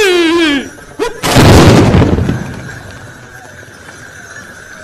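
A Moroccan tbourida fantasia event in Guelmim: a rider's sung call rings out, then a loud burst of massed gunfire as the horses charge, fading into crowd ambience and hoof noise.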